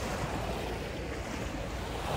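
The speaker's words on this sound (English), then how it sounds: "I really enjoy the sound of the waves." Water laps against the edges of the port in Düsseldorf, a soft, continuous washing hiss mixed with faint wind rumble and no voices.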